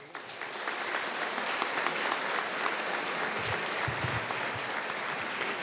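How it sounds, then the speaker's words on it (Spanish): Sustained applause from a crowd at a church celebration marking the anniversary of the first Mass at La Isabela, a dense, even wash of clapping that swells slightly after the first second and holds steady. "El aplauso, este gesto cercano"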